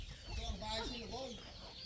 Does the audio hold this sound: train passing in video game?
no